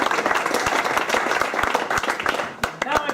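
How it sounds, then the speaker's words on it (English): An audience at a Citroën car show gathering at Carlisle breaks into dense, sustained applause, many hands clapping close and loud throughout. "So give yourselves a round of applause."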